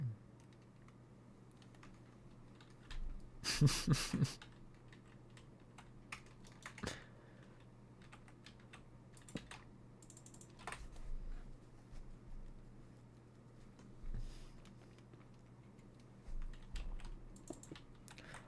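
Rapid typing on a computer keyboard comes in irregular bursts of light clicks, fairly faint against a steady low hum, with a louder cluster of keystrokes near the start and scattered taps after it.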